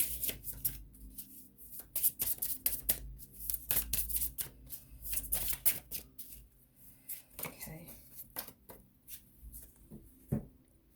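A Sacred Soulmates tarot deck by Stellara is shuffled in a run of quick, close papery riffles and slaps with brief pauses, while a voice talks at intervals.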